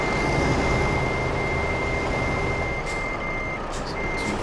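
A truck in Euro Truck Simulator 2 multiplayer emits loud, steady reversing beeps as it backs up, a sustained electronic tone over engine rumble, with a few faint clicks near the end.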